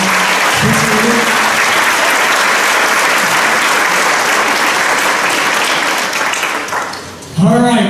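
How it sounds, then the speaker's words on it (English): An audience applauds jazz band alumni at a Colfax High School Jazz Band concert: loud, dense, sustained clapping that fades near the end as a voice comes in. "Let's give these alumni a great big round of applause"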